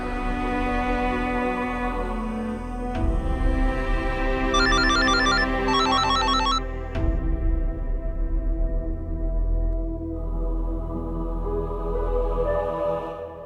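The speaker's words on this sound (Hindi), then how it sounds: "खालिंदी का फोन" A phone ringtone rings out loud in a domestic scene from a Hindi TV serial, with a brief electronic trilling burst partway through, set over background music.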